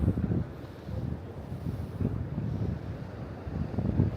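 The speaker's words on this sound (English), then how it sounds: "We can hear the ocean without." Ocean surf at Balboa/Newport Beach at sunset, a steady low wash of waves blended with gusty wind buffeting the microphone, continuous and moderately loud with no voices.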